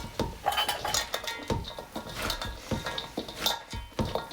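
Garlic and chopped roots are mixed with salt in a bowl, giving a rapid, busy series of wet crunchy rustles and clinks against the bowl, close and steady with no talking.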